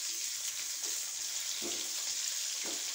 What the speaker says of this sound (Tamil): இப்போ காலிஃப்ளவர் பொரிச்சிக்கிட்டு